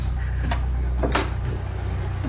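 An upstairs door in a house is opened, giving a couple of short knocks and a brief scrape up close against a low background rumble, with no talking.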